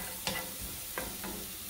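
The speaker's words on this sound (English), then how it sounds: "We're going to use 1/2 of the garlic. Stir it a couple times until it's fragrant." Garlic sizzles in a hot pan for a Chinese-style beef and tomato dish, with a few sharp spatula clicks and scrapes standing out over a steady, moderate frying hiss.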